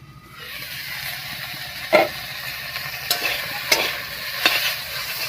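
Dheki greens cook in an uncovered pan for a Bengali chachchari, a soft continuous sizzle and hiss with a few sharp utensil knocks and stirring scrapes, close and without talk.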